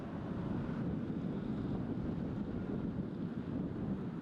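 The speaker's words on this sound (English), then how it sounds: "the wind just nosedived that disc from Joel" Steady wind blowing across a disc golf course during a tournament round, a continuous low rushing roar buffeting the microphone, with no other sounds or voices.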